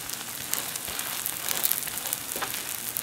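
A kale pancake frying in about two tablespoons of vegetable oil, giving a steady, close, crackling sizzle that stays even and unbroken.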